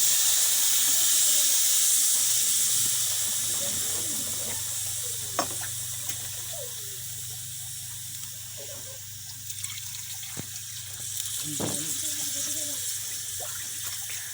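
Water is poured into a pot of chicken khichuri with garam masala, splashing and hissing over a loud sizzling simmer, with a few clinks of a utensil.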